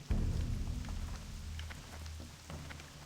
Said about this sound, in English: it looks like it's raining in Stranglethorn Vale today